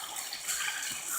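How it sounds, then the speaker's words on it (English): Waterfall pouring over big rocks on a nature walk, a continuous bright rushing wash of water heard alone and fairly loud throughout. "Oh, waterfall!"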